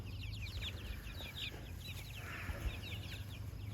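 A naked neck chicken in a backyard urban farm chicken tractor clucks softly amid a steady outdoor hum, with brief chirpy calls repeating throughout.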